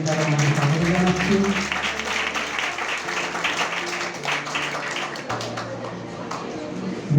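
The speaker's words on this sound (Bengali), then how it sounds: "আমরা করতালি ধ্বনি দ্বারা ওনাকে স্বাগত জানাচ্ছি" Audience clapping welcomes Dr. Shubhalakshmi Hota at an Amratala Gosaidas High School celebration of Vidyasagar's birthday in 2025. The applause is steady and fairly loud, mixed with a low sustained hum and tones, with some voices underneath.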